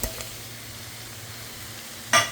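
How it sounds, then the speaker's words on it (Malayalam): String beans and grated coconut are stirred in a pan for a Kerala-style mezhukkupuratti, with a soft steady sizzle and a brief scrape of the spoon at the end. "നല്ല രീതിയിൽ ഇളക്കുക."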